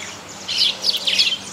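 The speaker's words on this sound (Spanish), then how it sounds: "Las golondrinas son aves de alas largas y puntiagudas." Swallows in Argentina give a few quick, bright chirping calls in short bursts, fairly close and clear over faint background hiss.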